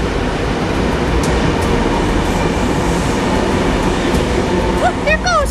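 A subway or metro train rumbles steadily past, heard from a high escalator, with a continuous loud roar and brief wheel squeals near the end while a voice talks over it.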